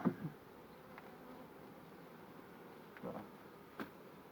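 Honey bees at a beehive give a faint, low buzzing hum under quiet rustling and a few soft knocks, distant and subdued.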